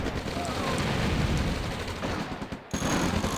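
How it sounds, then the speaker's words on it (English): V2 rockets and defensive fire in an OpenRA Red Alert battle as the rockets hit anti-aircraft defences, a dense, continuous roar of explosions and rapid gunfire with a brief dip near the end. "There's my V2s, and they're taking out the AA defences."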